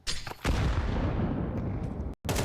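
A grenade detonates during a professional Counter-Strike match in the ESL Pro League: a dense, rumbling blast roars on for about two seconds, cuts off sharply, then the noise resumes.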